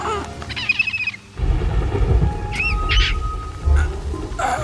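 Bird squawks and chirps in an animated bug film's villain death scene, several short high calls near the start and middle over a dense, rumbling low background.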